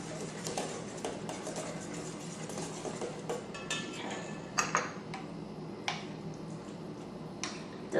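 A whisk works ricotta cheese into a cannoli ice cream mixture in a bowl, giving quiet, steady ticking and scraping taps with a few louder clinks of metal against the dish.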